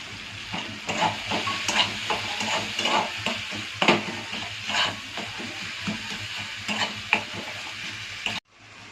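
Dried fish chutney frying in a pan as turmeric and salt are stirred in, with a steady sizzle and repeated scraping strokes of a spoon against the pan, close and fairly loud, ending abruptly.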